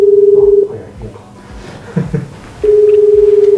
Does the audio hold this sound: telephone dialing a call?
yes